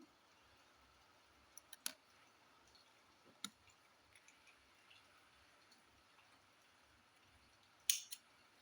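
Scissors snip through crochet yarn in a few quiet, sharp clicks spread across a near-silent stretch, with one louder cluster of cuts near the end.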